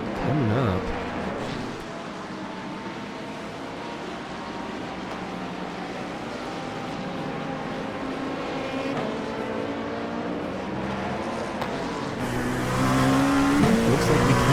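LMP2 prototype engines whine through traffic with hypercars and GT3s in an iRacing IMSA race, a steady, loud, near drone with shifting harmonic tones and rising intensity toward the end.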